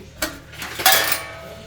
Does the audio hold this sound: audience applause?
no